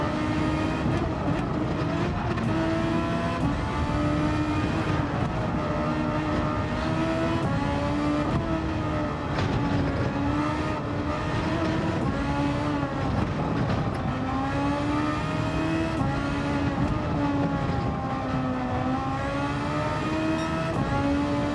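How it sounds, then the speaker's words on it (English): A Formula 1 car screaming around the Nordschleife in Gran Turismo 7, its high engine note rising and falling through gear changes and corners, loud and continuous throughout with no talk. "I have never ever, to my knowledge, driven a Formula 1 car around the Nordschleife"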